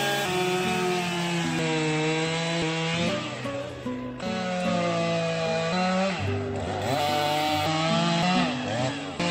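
A chainsaw bores into a pine tree while felling, its engine a loud, steady drone that shifts pitch as the bar cuts through the wood, with no talking.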